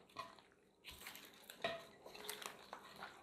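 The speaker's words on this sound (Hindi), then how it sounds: "और अब मैं सबको मिक्स कर लूँगा।" Utensil scraping and clinking against a cooking pot as spices are mixed into mutton for white mutton pulao, a few close clatters and metallic taps with no talk.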